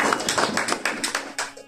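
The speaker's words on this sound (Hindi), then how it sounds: "दो तालियां मेरे यीशु के लिए।" A church congregation at a Hindi-Urdu sermon claps in a quick, steady run of about seven sharp, fairly close hand claps, with no talk over them.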